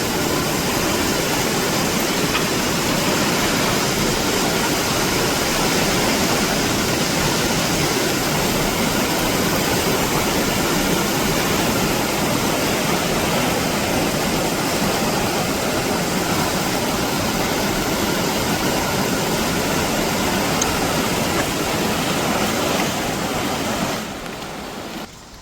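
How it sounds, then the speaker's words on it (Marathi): A swollen, fast-flowing river rushes near the Patoli bridge in Furus village, Dapoli–Khed, during heavy rain: a constant, loud wash of water noise that holds steady almost throughout, fading out at the close. "नदीचा पाणी बघा स्पीड बघा"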